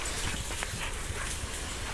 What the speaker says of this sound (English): dogs are going mad again